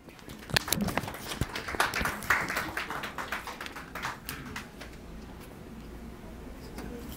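Scattered audience applause at an academic presentation, a modest number of separate claps, sharp and distinct at first, then thinning and fading into quiet room tone.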